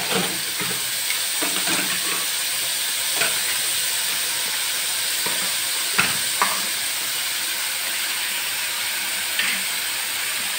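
Spices fry in hot oil in a pan, giving a steady close sizzle and hiss with occasional soft stirring clicks, no talk.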